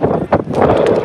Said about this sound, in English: Gust of wind.